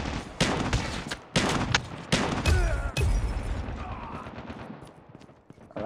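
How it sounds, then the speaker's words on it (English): Machine gun fire in the Call of Duty Mobile video game, several loud rapid bursts in quick succession with a trailing echo that fades out, with no speech. "I like how the guy racks in this machine gun"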